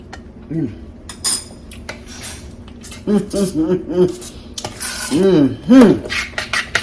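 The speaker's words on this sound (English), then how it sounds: "So I'm just stirring it good because it's been sitting there, getting thicker and thicker." A spoon stirs thick coconut cream pie filling in a pot, making scraping rubs and light clinks against the sides in uneven bursts, while a voice talks in between.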